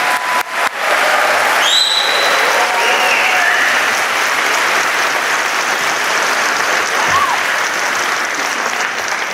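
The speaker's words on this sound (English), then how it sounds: "So, big applause." Loud, sustained applause from a large graduation ceremony audience fills the whole stretch, dense and steady clapping with a few whoops and cheers rising near the start.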